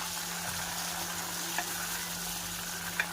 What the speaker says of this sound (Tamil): பாருங்கள் நல்லா பொரியுது பாருங்கள்